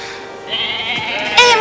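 A sheep bleats in a long wavering call heard up close, rising to a louder, brighter bleat near the end, with no talking over it.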